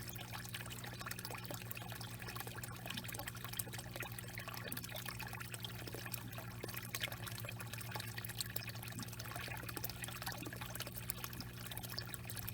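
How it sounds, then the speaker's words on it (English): Pond water siphoning into buckets makes a steady, low trickling flow that runs continuously at a faint, even level with no breaks. "I'm starting again to do the siphon here"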